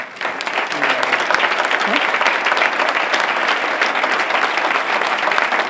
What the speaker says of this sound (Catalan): la podem aplaudir directament